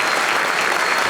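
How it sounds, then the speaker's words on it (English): A comedy club audience at a live stand-up show bursts into a brief, dense round of loud applause, close and continuous throughout. "Round of applause for the postdoc in Norway."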